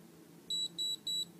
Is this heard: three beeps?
yes